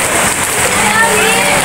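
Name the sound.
heavy rain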